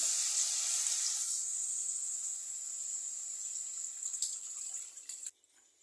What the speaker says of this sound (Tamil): புளி வந்து எலுமிச்சம்பழம் சைஸில் கரைச்சி வச்சுருக்கேன் அதையும் ஊற்றிக்கலாம்